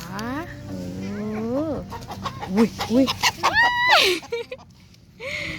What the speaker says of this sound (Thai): ไก่ตีกัน เออ ไก่ตีกันทำไม อย่าตีกันนะ